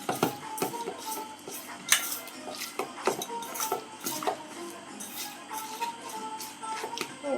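Hands mix Maggi noodle pizza batter with noodle seasoning powder in a bowl, producing close, irregular clinks against the bowl along with soft squishing, fairly quiet and with no speech.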